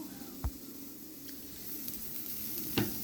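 Chopped onion dropped onto a hot griddle for a bajra flour rava dosa gives a soft, steady sizzle with a couple of faint clinks and stirring scrapes, close and fairly quiet.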